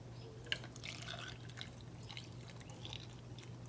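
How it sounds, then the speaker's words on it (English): Milk being poured into a plastic smoothie cup outdoors in the rain, a faint liquid trickle and scattered drips over a steady low background hum, quiet and close. "And then we're gonna put a lot of milk in here."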